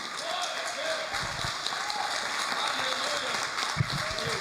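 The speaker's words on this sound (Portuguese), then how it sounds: "todo aquele que ouviu e acredita nessa palavra, aplauda ele bem forte" A church congregation applauds during a worship service, a steady, dense wash of clapping filling the room with a few louder claps standing out and faint voices mixed in.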